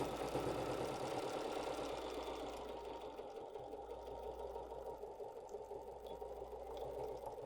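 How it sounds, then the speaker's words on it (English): A sewing machine steadily stitches binding onto a quilted courthouse steps hot pad, its motor running in a continuous close, even whir for the whole stretch with no pauses. "Okay, and we'll keep sewing."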